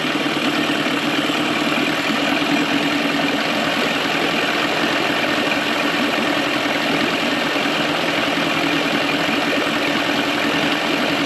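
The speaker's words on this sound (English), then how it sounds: "The motor's actually not running too bad. Let me increase it a little bit." An outboard boat motor runs steadily close by, a loud continuous buzzing drone that holds even with no clear rev swells, with no voices over it.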